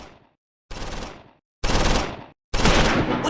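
Bursts of gunfire in the Close Combat 4 Battle of the Bulge wargame, four loud rattling volleys of automatic fire separated by short silences, each burst harsh and close.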